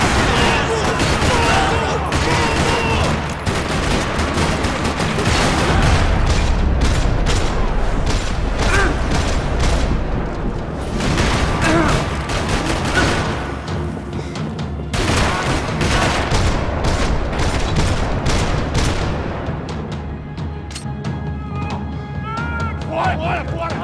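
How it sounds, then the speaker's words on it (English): Sustained gunfire rattles through a parking lot in the video game Max Payne 3, dense bursts and booming shots overlapping nearly nonstop at high loudness, with mechanical clanks mixed in. "Another parking lot rattling with gunfire."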